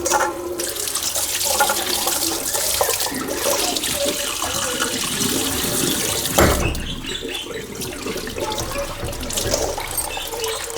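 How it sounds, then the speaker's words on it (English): Cold water runs steadily from a tap to rinse fabric freshly pulled from a turmeric dye pot, a continuous close splashing rush that shifts briefly midway and then carries on with no talk. "I'll just give it a rinse with cold water in fact."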